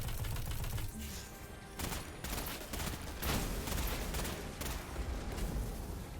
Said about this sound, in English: Chunk some damage out there with the grenade launcher.